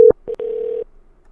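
Telephone tones sound during a call-in sports broadcast: a short steady tone, a brief pause, then a longer held tone of about half a second, clear and isolated with no talk.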